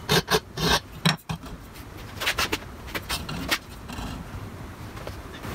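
A new hand file rasps across thin-walled bicycle frame tubing to shape a miter, giving a series of quick, close scraping strokes that blur into a steadier, softer rasping.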